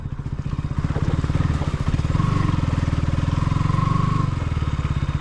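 A motorcycle idling and revving beside a muddy river crossing where bikes are loaded onto a wooden boat, its engine chugging in a fast, even thump close by, rising slightly in the middle.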